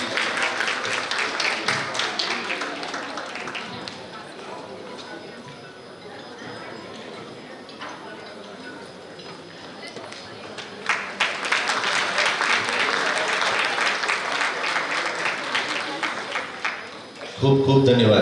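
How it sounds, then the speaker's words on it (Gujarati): A women's gathering breaks into sustained applause to welcome a guest, a dense crackle of many hands running through the clip and swelling louder in the second half before fading out. "એકવાર જોરદાર તાળીઓના ગડગડાટથી આપણે વધાવી લઈશું"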